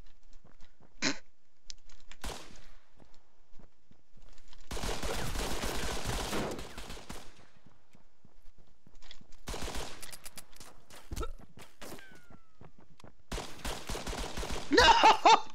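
Gunfire in the Arma 3 military shooter, heard in a few separate bursts: a lone sharp crack, then longer rattling volleys of rapid shots between quiet gaps, moderately loud and distant to mid-range.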